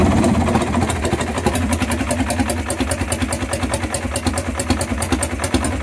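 Close and loud, the engine of a 1965 Marusho ST500 motorcycle catches and settles into a lumpy, pulsing idle with a steady rapid beat and a slight knocking character.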